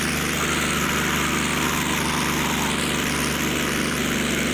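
A Curtiss P-40E Warhawk's engine roars at high RPM during takeoff, loud and continuous from inside the aircraft, a dense steady drone with a throbbing propeller tone that slowly wavers in pitch.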